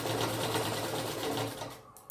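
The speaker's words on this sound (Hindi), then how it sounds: "थोड़ा सा क्रॉस करने के बाद सिलाई शुरू करेंगे" A sewing machine runs steadily, stitching around the waist of a lehenga over pleats, a continuous close motor whir that slows and stops near the end.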